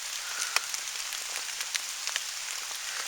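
Rain falls steadily around a hammock camp, a soft continuous hiss with scattered sharper drop taps spread over the span, faint and alone.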